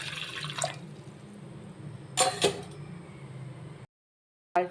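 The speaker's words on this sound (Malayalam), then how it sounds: "തുളസി ഇല വെച്ച് ഒരു ഗ്ലാസ് വെള്ളം ഒഴിക്കാം." A glass of water is poured over holy basil (tulsi) leaves for a black tea, giving short splashing and trickling bursts with a few vessel clinks, then a sudden silence and one last clatter.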